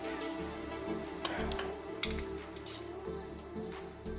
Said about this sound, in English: now I can go through and finally tighten the top steering stem nut